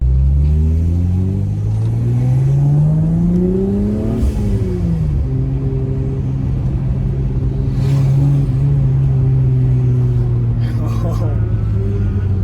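A turbocharged Mercedes 3.2-litre M104 straight-six drives on the road, loud and close, its engine note climbing through gears with rising pitch, easing off around four seconds, then holding a steady drone with brief shifts later.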